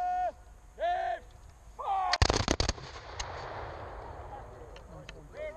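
Muskets fired in a volley at an English Civil War Sealed Knot re-enactment: shouted commands, then a ragged burst of sharp, loud reports close together, followed by a fading rumble and a few distant shots.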